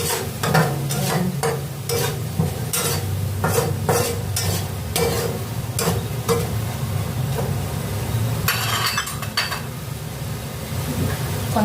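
Pancit canton noodles stir-fried in a pan, with a steady close sizzle throughout and repeated sharp scraping and clacking of a utensil against the pan in an irregular rhythm.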